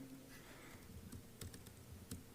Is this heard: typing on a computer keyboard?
yes